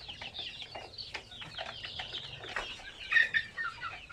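Farm chickens clucking and calling in quick irregular bursts, close by, with one louder squawk near the end over quiet background.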